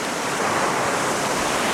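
Flooded Waddell Creek rushes in a dense, continuous broadband roar, loud and close, with no voices over the churning water.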